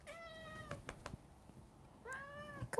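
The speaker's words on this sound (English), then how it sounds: "if nobody was hearing her meow, they probably heard that last one" A cat meows twice close by, a drawn-out call at the start and another near the end, with small thumps and room noise between them and no talk.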